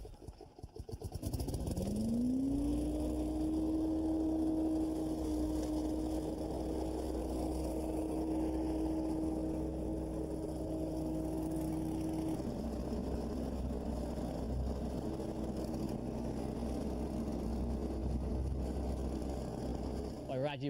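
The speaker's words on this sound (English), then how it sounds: "This unit actually attaches to the riding lawnmower." Leaf vacuum mulcher attached to a riding lawnmower running steadily, a loud continuous engine drone with a high whine that holds for several seconds then drops away while the machine keeps rumbling.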